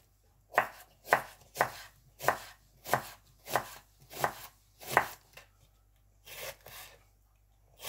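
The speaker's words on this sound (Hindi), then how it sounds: "सबसे पहले हम प्याज काट लेते हैं।" Knife chopping onions on a board for a deer meat karahi, about ten crisp, evenly spaced cuts close by, then a short pause and a final pair of chops.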